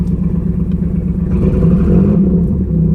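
A 1991 Pontiac Firebird engine revs steadily under load, a rough mid-pitched drone that swells around halfway through as the car hesitates and then pulls, with no talking.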